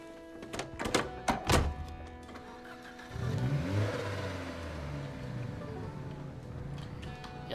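Dash Rancher vehicle in the Project Zomboid video game: a few sharp door-like thunks, then the engine starts and rises into a steady mid-pitched driving hum that carries on at even volume.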